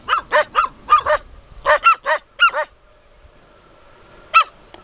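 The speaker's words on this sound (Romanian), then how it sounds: "Diviți cine mă întâmpină, căței." Shepherd dogs at a sheepfold bark in a quick series of about ten sharp, fairly close barks, pause, then give one last bark, with a faint steady high whine behind.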